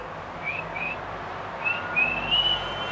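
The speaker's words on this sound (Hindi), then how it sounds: "तूने बोला ना जो लड़का पसंद आया सीटी मार दे, तो मैंने तो मार दी।" A person whistles at someone, several short high whistle notes in two brief bursts over steady background hiss and room noise, fairly faint, with no talking.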